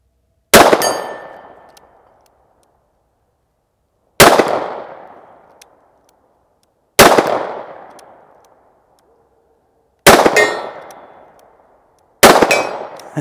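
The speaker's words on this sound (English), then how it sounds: "maybe you guys are enjoying this shooting part" Five sharp, loud revolver shots from a Ruger SP101 snubnose at a range with steel targets, each a crisp crack with a ringing decay, spaced several seconds apart in otherwise quiet surroundings.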